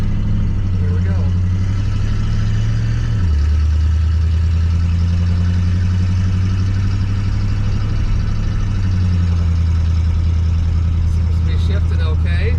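Car engine with a low steady hum that shifts pitch as gears change, heard from inside while driving on a second test drive after a major oil leak repair; tone stays even and fairly loud throughout, with a faint rattle near the end.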